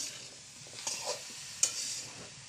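Fish curry with cauliflower, potato and eggplant sizzles steadily in a pan, with a few scraping stirs of a utensil cutting through the constant frying hiss, close and moderately loud.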